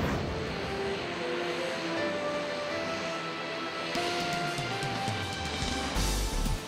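Inside an airplane flying to Botswana, a steady broadband cabin roar and hum carries on without a break, with a brief shift in tone partway through and no speech.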